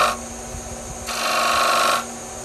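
A chisel scrapes wood on a Shopsmith lathe in two close rasping passes: a quieter stroke, then a louder, brighter one, each cutting off abruptly, with no talk.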